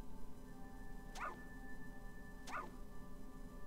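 Two short dog barks from Fallout 2 ring out about a second apart, faint and somewhat distant over a steady game backdrop with no talking.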